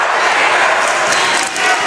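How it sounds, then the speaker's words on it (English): A noisy high school basketball crowd in the gym at a Bradley Central Bears vs Walker Valley Mustangs game, a loud, dense roar of cheering and shouting filling the whole moment. "This crowd has been noisy, one of the noisiest crowds we've had all year long"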